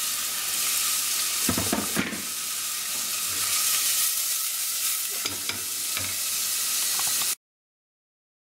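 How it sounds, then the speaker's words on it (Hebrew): Chopped onion sizzles and crackles in hot oil, a loud steady hiss broken by stirring scrapes, cutting off abruptly to silence near the end. "אני מוסיף בצל אחד קצוץ. נתגן אותו עד שהוא נעשה שקוף פלוס."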